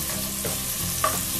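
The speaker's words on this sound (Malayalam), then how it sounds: "മീഡിയം ഫ്ലെയിമിലിട്ട് നമുക്ക് സവാള ഒന്ന് വറുത്തെടുക്കാം" Onions fry on a medium flame for ghee rice, a dense, close sizzle with soft stirring underneath, brief and continuous with no voices.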